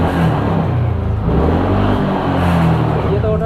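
A TVS Ntorq Race XP scooter engine with a reported abnormal engine sound hums close by at a steady idle, a low, throbbing tone with slight wavering, while someone speaks briefly over it.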